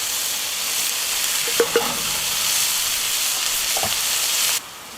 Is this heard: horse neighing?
no